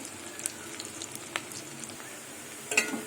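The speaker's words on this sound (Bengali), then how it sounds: "পেঁয়াজ ভাজা হয়ে গেছে" Onions frying in oil in a pan give off a steady, fairly quiet sizzle. Scattered small pops and crackles run through it, with a slightly louder burst near the end.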